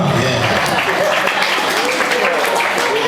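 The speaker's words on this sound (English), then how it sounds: "ladies and gentlemen, a round of applause for Mr. Yamaha." Audience applauding a drummer at a live dance show, loud sustained clapping mixed with cheering voices and a musical tone underneath.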